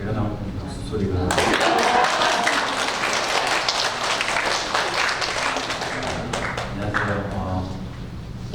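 A church congregation applauds during a Sunday worship service, dense sustained clapping lasting about seven seconds after a short spoken introduction, with voices mixed in underneath.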